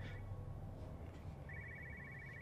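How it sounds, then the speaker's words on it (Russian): A telephone rings in a video game, a repeating electronic trill that comes in two bursts, one at the start and a longer one toward the end, over a steady low background hum. "Я слышу телефон"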